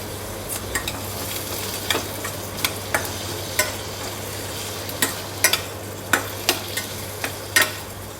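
Tomatoes hit a pan of frying capsicum chutney with a steady low sizzle, while a spoon scrapes and stirs in sharp, irregular clacks every second or so, close and clear with no talk.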